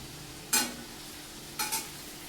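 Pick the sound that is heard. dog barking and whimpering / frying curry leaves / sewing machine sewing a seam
frying curry leaves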